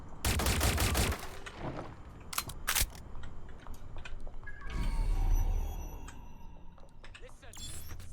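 A loud burst of rapid gunfire up close, followed by scattered single shots and mechanical clicks, with voices talking over the game action.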